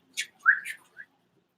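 A person whistles a short, sharp imitation of a hard whistle, a few brief rising chirpy notes in quick succession, close and clear against silence.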